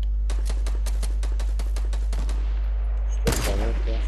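Rapid sniper and weapon fire in a Fortnite match, a quick string of sharp, evenly spaced shots followed by a louder burst near the end.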